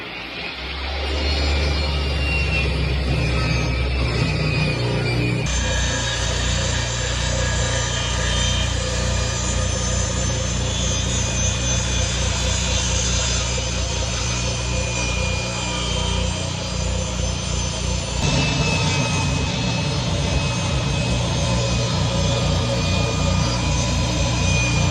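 A table saw runs continuously at full speed, a loud steady whining motor drone with a brief spin-up at the start, heard alone without voices.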